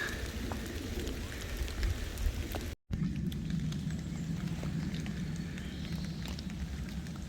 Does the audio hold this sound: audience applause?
no